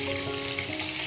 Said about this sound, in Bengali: বেগুনগুলি উল্টে পাল্টে ভেজে নিচ্ছি